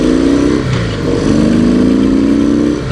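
A 2017 Harley-Davidson CVO Pro Street Breakout motorcycle makes a slow U-turn. The engine rumbles loud and close with a deep, steady V-twin thump, dipping briefly as the bike turns and then holding a strong low idle-to-cruise drone.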